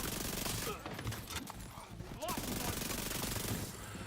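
Rapid SMG gunfire from The Division 2 in a PvE fight, a dense, continuous volley of shots with overlapping in-game noise, sustained and loud throughout.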